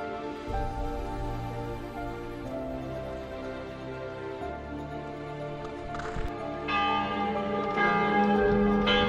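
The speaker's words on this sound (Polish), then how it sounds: "Biją dzwony w Hallstatcie." Church bells in Hallstatt, Austria, ring out steadily with sustained, overlapping tones that swell louder toward the end over a low background murmur.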